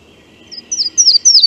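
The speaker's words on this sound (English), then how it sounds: "that's our last yellow-throated warbler song" A yellow-throated warbler sings a short series of high, thin notes rising in quick bursts over near silence, each phrase brighter and louder than the last.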